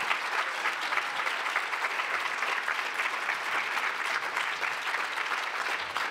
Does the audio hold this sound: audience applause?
yes